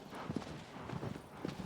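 Horse hooves clip-clop in an uneven walking rhythm in the video game Shadow of the Colossus, soft and fairly close, with no voices over them.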